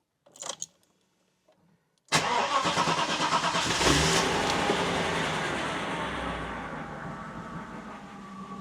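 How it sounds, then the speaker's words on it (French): A few faint clicks, then the engine of a Mercedes 500SL R107 cranks and catches after an oil change, settling into a steady running idle that stays loud and close. "on va démarrer le moteur"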